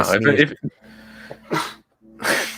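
A single sharp sneeze bursts out during a live baseball pregame stream, followed by breathy sounds and a couple of short vocal noises.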